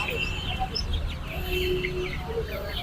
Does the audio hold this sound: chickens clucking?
yes